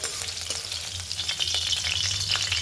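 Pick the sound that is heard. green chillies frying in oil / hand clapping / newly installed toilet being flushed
green chillies frying in oil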